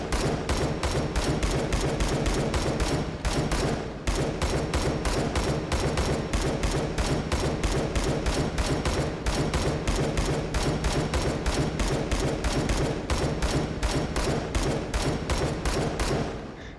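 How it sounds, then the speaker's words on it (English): SCAR 17 rifle in the H3VR video game firing, loud close shots: a run of spaced semi-auto reports, then tight rapid full-auto bursts, with no talking. "Shoot that semi-auto and then we'll do full auto."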